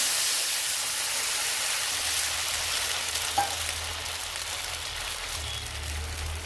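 Water is added to a sizzling tempering of oil, curry leaves, chilli, salt and sugar for dhokla, giving a loud continuous hiss and bubbling that settles into a lower steady simmer near the end.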